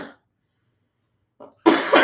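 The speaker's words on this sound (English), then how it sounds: "I can't stop coughing." A person coughs: a brief cough at the very start, a short pause, a small throat sound, then two strong, close coughs in quick succession with no talking.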